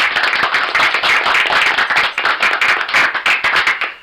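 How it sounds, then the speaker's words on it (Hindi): Audience at a Ram Katha religious gathering in Mukundpur, Delhi, claps loudly and steadily for Rajendra Maurya, a dense burst of applause with no talking. "एक बार जोरदार तालियां राजेंद्र मौर्य जी के लिए।"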